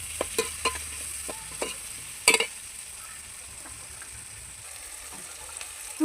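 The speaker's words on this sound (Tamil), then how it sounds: "பூண்டு போட்டு நல்லா வதக்கிட்டே இருக்கட்டும்" Garlic sautés in a pan for a murrel fish curry. A soft, continuous sizzle runs under a few sharp spatula scrapes and clinks, with one louder knock midway.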